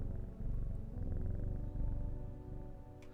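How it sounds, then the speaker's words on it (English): A cat purrs steadily while being petted in the game Strange Horticulture, a continuous low rumbling purr heard alone and close up with no talking. "Pet kitty."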